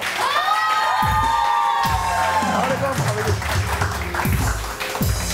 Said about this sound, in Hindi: आइए नादिया के लिए बहुत सारी तालियां।